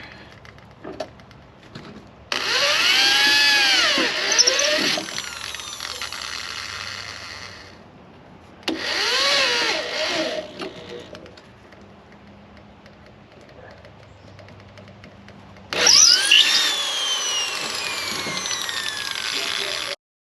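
A power drill whirs in three separate bursts, each running a few seconds with its pitch rising and falling, separated by quieter pauses.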